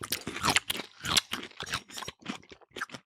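Someone bites into and chews a crunchy whole dill pickle, producing a rapid series of close, crisp crunches that continue steadily for several seconds.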